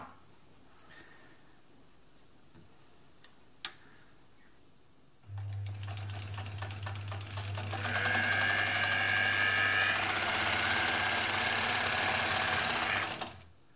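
An ELNA Supermatic sewing machine runs straight stitches, starting with a steady hum and then rising into a louder, busier rhythmic whirring that carries on alone for about eight seconds before stopping abruptly.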